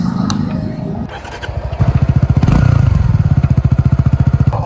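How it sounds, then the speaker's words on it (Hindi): A Suzuki V-Strom 250 motorcycle with a 250 cc engine running close by, its exhaust pulsing in a rapid, even throb that picks up and holds steady, loud and clear with no talking. "250 सीसी इंजन के हिसाब से एकदम बिल्कुल भी ओवर नॉइस नहीं है"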